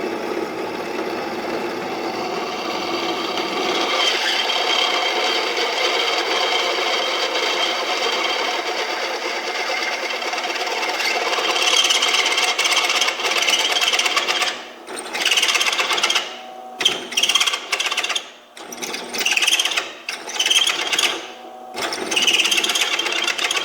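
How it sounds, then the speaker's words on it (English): A drill boring through a metal part during a John Deere 4020 engine rebuild, a continuous whining, grinding hum that later breaks into short stuttering bursts and pauses as the bit bites, close and fairly loud without talk. "Sure doesn't like drilling through that center part."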